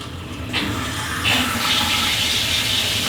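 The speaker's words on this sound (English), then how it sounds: "And she's leaking. She's leaking like the sieve, Jack." Cold water running from a tap through a leaking light fixture, a steady gushing rush with a couple of surges early on, close and fairly loud with no talking.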